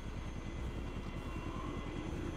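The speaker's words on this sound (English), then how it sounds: "I hear a helicopter somewhere. Where is it?" Helicopter flying nearby in the video game Conflict: Desert Storm, a steady droning engine with a pulsing low rotor chop that holds at an even level throughout, with no talking over it.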